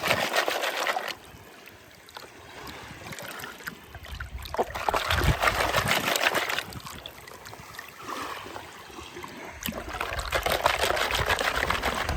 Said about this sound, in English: let's take this much material off this beach, go pan it out, see how many pieces of gold are in this one